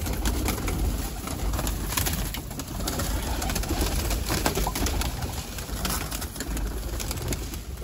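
Pigeons cooing while being fed grain such as wheat and chickpeas, a dense flock of soft, overlapping coos and rustles, steady and close.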